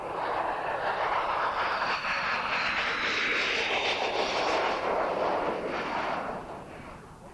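A MiG-29 jet fighter's engine roars, a loud sustained howl that holds steady for several seconds and then fades slightly toward the end.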